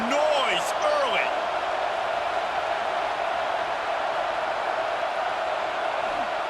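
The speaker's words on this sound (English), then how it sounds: "This crowd bringing the energy and noise early." Crowd noise at a college football game in the CFB 26 video game: a loud, steady roar of a stadium crowd runs throughout. Brief whistles and calls come at the very start.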